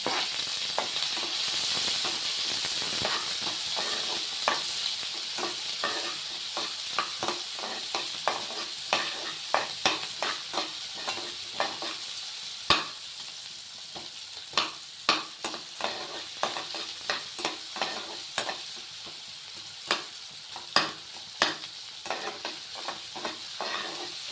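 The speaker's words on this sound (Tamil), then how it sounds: "ஆனியன் நல்லா வதங்கணும்." Onion and green chilli fry in a pan for a Maggi noodle biryani, a constant soft sizzle broken by frequent scraping clicks of a spoon stirring, close up and with no talk.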